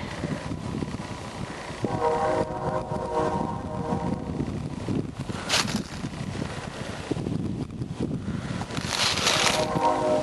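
A BNSF mixed freight train rolls past in Thackerville, Oklahoma, a steady rumble of railcars with wind noise and sounds of the horn in the distance, continuous throughout.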